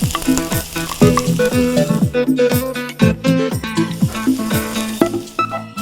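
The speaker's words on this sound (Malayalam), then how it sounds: "പാനിനകത്ത് ഒടിച്ചിരി എണ്ണ ഒഴിച്ചേച്ച് വെജിറ്റബിൾ ഓയിലോ അല്ലെന്നുണ്ടെങ്കിൽ ഒലീവ് ഓയിലോ ഏതായാലും മതി പക്ഷേ വെളിച്ചെണ്ണ വേണ്ട അതിനകത്തോട്ട് ഉള്ളി ഇടണം" Onion sizzles in vegetable or olive oil in a pan, under loud, rhythmic musical stabs that stay prominent throughout.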